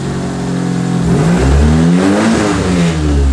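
A turbocharged Mitsubishi Lancer with a 4G15 engine revs steadily and loudly, its pitch sweeping up and down as the turbo spools with a whoosh beneath the rumble, close and continuous without any voices.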